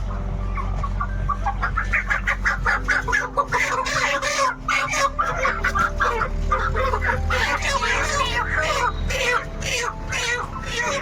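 Several chickens cluck and squawk close by, with a dense, continuous run of calls and a low engine-like rumble underneath.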